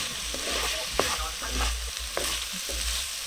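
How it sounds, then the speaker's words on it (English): Onion, garlic and aromatics brown in a frying pan for a chicken curry, giving a constant close sizzle broken by a few scraping stirs, with no voices. "So you want your onion and garlic and all of those nice aromatics to brown off."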